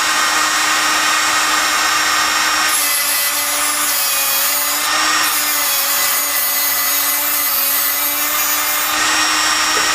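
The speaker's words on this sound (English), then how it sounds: "I don't want to damage the diamond wheel. I just want to remove the necessary material to bring that tip to a point." Tungsten TIG welding electrode tip ground to a point on a diamond wheel, a steady loud abrasive whir with brighter grinding stretches as the tip is pressed and rotated, no talking.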